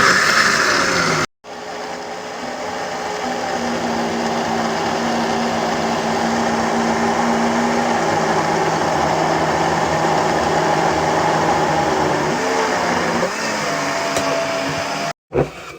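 A food processor, or mixer, pulverizes soaked ingredients with about half a liter of water, a loud, continuous motor whir and churning blend running close up, briefly cutting out near the start and again near the end.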